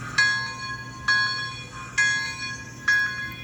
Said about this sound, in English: You can test the bell.